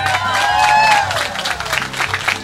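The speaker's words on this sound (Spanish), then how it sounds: "Pido un aplauso" Crowd applause at a live community event in San Francisco, Honduras, with a voice carrying over the clapping; the applause stays loud and steady throughout, with a held, pitched vocal sound near the start.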